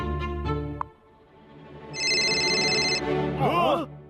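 An electronic phone ringtone chirps for about a second amid background music, followed by a burst of warbling tones.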